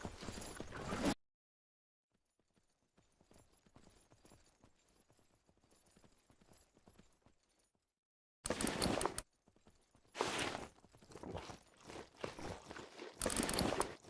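Horse hooves clip-clop along in the video game Myth of Empires: a loud burst of steps opens, quieter scattered footfalls follow after a pause, then louder bursts of hoofbeats return near the end.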